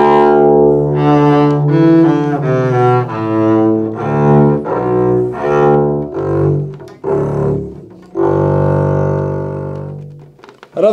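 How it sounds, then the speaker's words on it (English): A bowed double bass plays a slow melodic line alone, with sustained notes of deep, dark, warm tone swelling and fading over several phrases, close and clear with no talking. "Sometimes I'll play it with a bow. When I do, it sounds like this."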